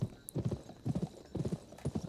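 Horse hooves clip-clop in irregular bursts of close, loud steps in the PS2 video game Gun, with short pauses between clusters.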